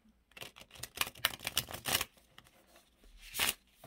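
A thick gilded Shadowland Tarot deck is shuffled up close, making quiet papery riffles and soft flapping bursts in a short irregular run, with a final flutter near the end.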